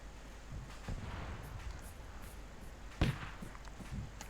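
A target blows up in the Arma 3 video game, a sharp burst followed by scattered crackling pops and rumbles, distant and fairly quiet over low background noise.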